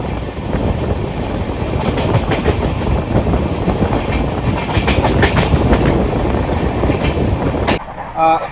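Inside the 12311 Netaji Express with new LHB coaches, nearing Bardhaman, a steady loud rumble and rhythmic wheel clatter continues, with some talk over it, then drops off sharply near the end.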